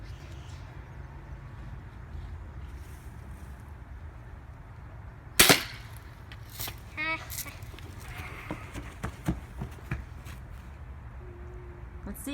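A BB gun fired once at a target outdoors gives a single sharp, close pop midway, followed by a few faint clicks and rustles against a quiet background.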